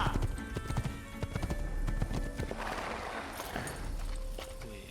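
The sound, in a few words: horse hooves clip-clopping in video game Assassin's Creed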